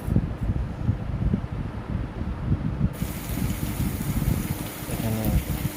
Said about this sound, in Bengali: প্রথমে মুগের ডালটা ভেজে নিচ্ছি